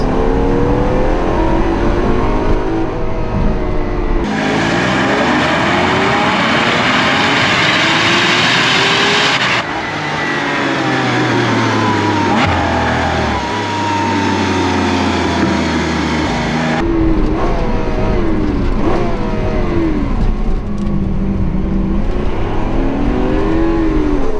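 Lamborghini Aventador SV engine pulling hard and loud up close, the revving pitch climbing and dropping sharply across several gear changes with a rough roar throughout.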